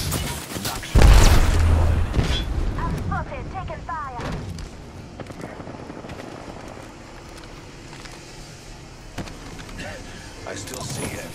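An Arc Star grenade thrown in a video game lets out a loud, sharp burst near the start. Quieter game effects and voices follow.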